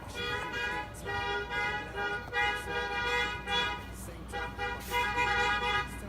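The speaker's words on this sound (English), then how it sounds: "they were just honking like crazy out there" Car horns honk repeatedly outside in sustained, overlapping bursts with a steady harmonic tone, fairly loud over a low rumble of traffic.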